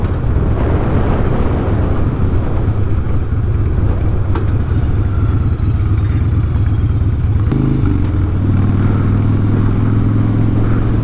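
A 2016 Harley-Davidson Dyna Street Bob with a 103 twin cam engine idles loud and steady in a deep, lumpy rumble, then shifts to a slightly different pitch partway through, heard alone without talk.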